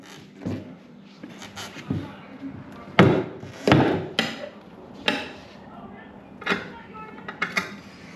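A big hammer strikes a tire to check its air pressure, giving several dull, irregular thuds spread over a few seconds, with people talking around the blows.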